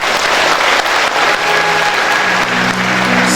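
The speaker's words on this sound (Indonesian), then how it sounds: "Tepuk tangan buat beliau." An audience at an Indonesian motivational seminar applauds. The clapping is loud, dense and continuous throughout, with faint crowd murmur underneath.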